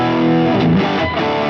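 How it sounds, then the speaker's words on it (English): Electric guitar tone with delay, hall reverb and slap echo, a loud sustained chord whose distorted notes blur and repeat into a washy ambient tail, played alone. "this almost sounds like you've turned on a bit of hall reverb with a little bit of a slap echo"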